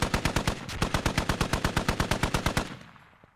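Twin .50 cal machine gun emplacement firing in a tactical video game: a rapid, evenly spaced stream of about twenty loud heavy shots for over two seconds, then a fading echo.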